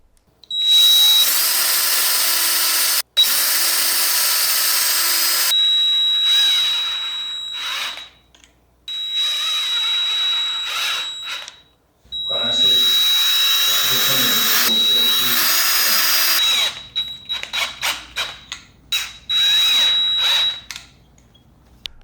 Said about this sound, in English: with all hardwoods, and especially with all woods, we should be pre-drilling